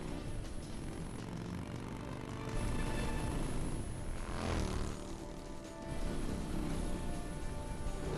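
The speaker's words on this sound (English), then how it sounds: "We got some kind of VTOL waiting for us." A VTOL aircraft engine in Metal Gear Solid 3 roars with a steady whooshing drone that swells in loudness partway through, a broad rushing hum sustained throughout.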